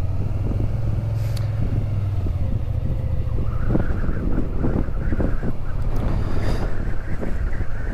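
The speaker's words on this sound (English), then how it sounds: "You may be able to hear the wind whistling a little bit." Steady wind rushing across the microphone of a Suzuki Gladius motorcycle riding from Hilda to Santiago del Teide, Tenerife, with a low rumble, a faint whistling tone rising in the background partway through.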